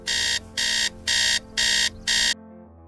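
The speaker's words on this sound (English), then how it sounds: "wakes up from the sound of the alarm clock" An alarm clock rings in five loud, evenly spaced electronic beeps, then stops abruptly.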